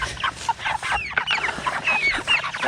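Six-week-old meat chickens cluck and squawk close by in a busy, overlapping chorus of short calls.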